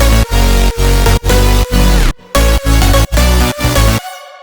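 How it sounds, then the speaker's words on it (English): A tape stop effect from the free D-Blue Glitch plugin repeatedly cuts and slows a loud electronic music loop, with rhythmic gaps and a final pitch-dropping wind-down into silence. "this is a free plugin for creating tape stop effects"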